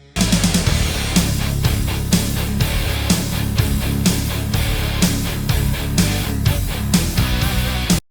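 A hard rock song plays loud and continuous, a dense band mix driven by a steady, punchy drum beat throughout.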